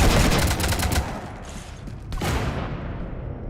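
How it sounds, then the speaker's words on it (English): Bursts of automatic weapon fire in the video game Mass Effect 3, a loud rapid volley followed by a short lull and another burst, with no talking. "You want to stop shooting up my ship?"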